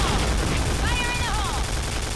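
Sustained heavy machine-gun fire from an MK.46 in the shooter Point Blank, a dense loud rattle running the whole stretch with in-game chirps and tones layered on top.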